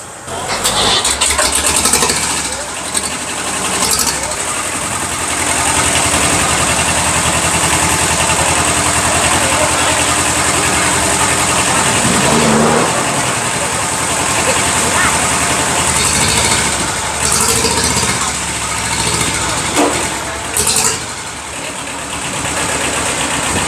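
A loud diesel engine of a yellow ride-on tractor runs steadily at idle, a continuous rumbling chug that stays close and unbroken throughout.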